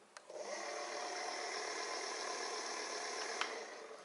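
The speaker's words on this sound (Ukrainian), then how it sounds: "Зараз ми увімкнемо і покажу, що двигун наш працює. Даємо газу" A Kugoo S3 electric scooter's motor spins up and runs close by: a steady, high mechanical whine with a faint rattle, holding level for about three seconds before easing off. No one talks.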